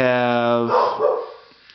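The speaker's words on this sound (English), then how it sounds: "Those dogs are going to ruin this for me, aren't they?" A dog's bark rings out near a gun range, a single loud, sharp bark that blends into someone talking and trails off quickly.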